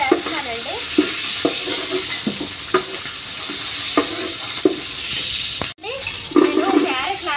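Green chillies frying for biryani give a constant close sizzle with regular stirring knocks, and a voice briefly cuts in near the start and end.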